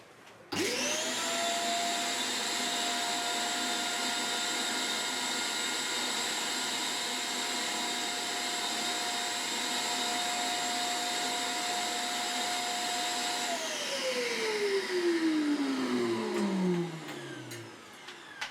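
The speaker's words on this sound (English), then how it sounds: "an ordinary vacuum cleaner can do miracles" An ordinary vacuum cleaner drawing air through a porous mold whines at a loud, steady pitch for a long stretch, then switches off and spins down with a falling tone.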